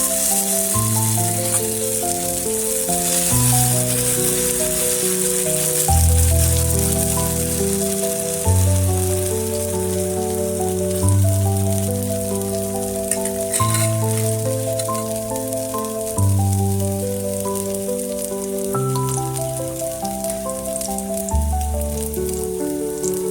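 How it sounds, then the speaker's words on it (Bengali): Batter fries in hot oil in a heated frying pan, a continuous crackling sizzle that runs steadily under a prominent melodic music track throughout. "ফ্রাই প্যানটা আমার গরম হয়ে গিয়েছে, তেল দিয়ে দিয়েছি। এবারে ব্যাটারটা"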